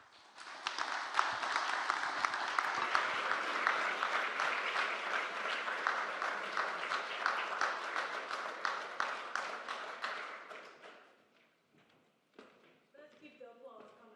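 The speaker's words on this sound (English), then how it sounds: "Let's keep the applause coming." A dense, steady round of audience applause at a ceremony honoring Jewish American veterans and remembering the Holocaust runs for about ten seconds, then thins to a few scattered claps and quiet murmurs before a voice starts speaking.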